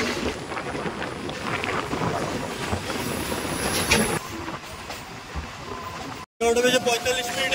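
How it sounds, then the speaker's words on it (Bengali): Jammu Tawi Express pulling out of Kolkata station, a steady rumble of rolling wagons with wheel squeal and track clatter, fairly loud and continuous, briefly cutting out near the end. "জম্বুতরি এক্সপ্রেস কলকাতা স্টেশন ছেড়ে জম্বুর উদ্দেশ্যে রওনা দিল"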